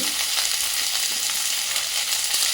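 Loud, steady sizzling of ginger, garlic and onion frying in hot oil, a continuous crackling hiss close by with no talking.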